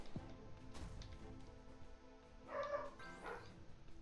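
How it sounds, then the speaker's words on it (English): Dogs barking at a distance, several short yips and barks clustered in the second half, fairly faint, with no talking over them. "It's that time of the afternoon where dogs are gonna bark."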